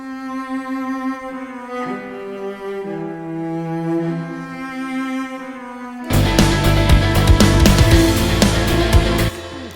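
Solo cello playing a legato line, smooth sustained bowed notes sliding between pitches, joined after about six seconds by a louder, denser full arrangement for dark gothic game music.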